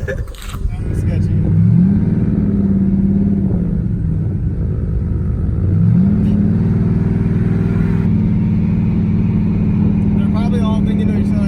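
A car being revved and driven on a street, its engine loud and close, rising in pitch twice as it accelerates and then holding a steady drone.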